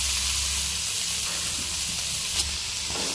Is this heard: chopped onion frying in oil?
yes